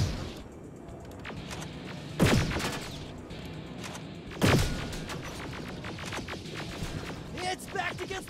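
Gunfire in the game Terminator Resistance: two loud, sharp blasts about two seconds apart, followed by a scatter of smaller shots and impacts over a steady background din.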